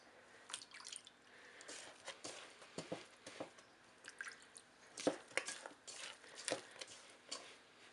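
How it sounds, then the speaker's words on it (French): Hands are dipped into a container of water while making sfenj dough, giving faint, irregular drips and small wet splashes close by in a quiet room. "je vais utiliser un récipient rempli d'eau pour tremper mes mains"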